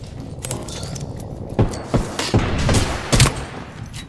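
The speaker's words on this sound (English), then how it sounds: "They're shooting at me!" Video-game gunfire crackles in several sharp, loud bursts, spaced irregularly, with a few quieter clattering shots in between against a low rumbling background.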